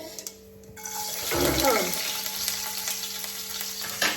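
Garlic fries in a pan with a loud, steady sizzle that swells as it hits the hot oil, with stirring noises over a continuous crackle and no talking.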